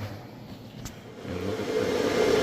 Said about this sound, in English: As you can hear, the fan works very well.